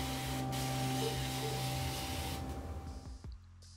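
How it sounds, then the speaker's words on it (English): A spray bottle filled with plain water misting onto hair to moisturize it, a steady close hiss lasting a few seconds before cutting off abruptly. "my spray bottle literally just has water in it."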